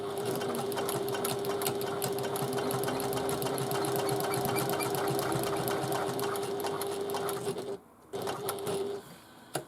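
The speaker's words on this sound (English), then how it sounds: "So I've brought it to the machine, and we just need to stitch a 1/4 of an inch seam allowance." A home sewing machine runs steadily, stitching a quarter-inch seam allowance on a backpack, a continuous close whirring hum with a rapid needle rhythm that stops briefly near the end before resuming.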